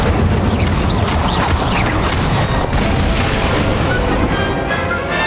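The Incendio fire spell in Hogwarts Legacy roars as a loud, continuous crackling rush of flame, dense and unbroken for several seconds with faint higher sparkles on top.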